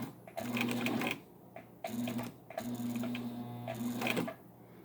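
A vintage Singer 15 sewing machine stitches through layers of material in short runs of a few stitches, a steady mechanical whir and rhythmic clatter starting and stopping several times at close range.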